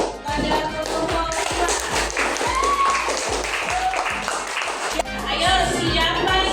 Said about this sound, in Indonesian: Beri tepuk tangan pada kelompok